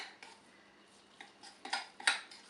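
A few soft scraping clinks of a utensil against a bowl while Polish cucumber salad is stirred, quiet at first and then two sharper knocks near the end.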